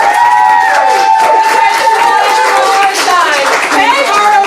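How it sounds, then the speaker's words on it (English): An audience at a live tabletop game play at a convention claps and cheers loudly, a steady wash of applause with excited shouting voices throughout. "audience, I need you all to clap and cheer as loud as you can"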